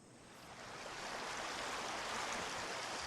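Mountain streams of water on a rocky summit plateau rush and hiss in a continuous, fairly faint wash that builds slightly at the start, with a touch of wind and no voices.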